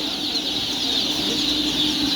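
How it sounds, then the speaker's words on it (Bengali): Colour bird chickens cluck together in a crowded poultry market, a dense, continuous flock clamour that stays loud and even throughout with no gaps. "কালার বার্ডগুলো যদি আমি আপনাদের দেখাই, এগুলো হলো কালার বার্ড।"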